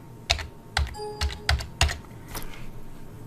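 A computer keyboard is typed on in a short burst of crisp, close key clicks at an uneven rhythm, with no voices.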